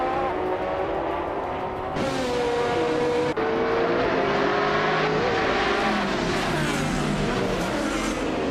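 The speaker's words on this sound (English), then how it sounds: "Imogen Tempest is on pole, cruising in a 2003 Pagani Zonda GR" A 2003 Pagani Zonda GR race car roars continuously during a race, its engine pitch climbing and shifting through gears, loud and close with an abrupt change midway and no talk.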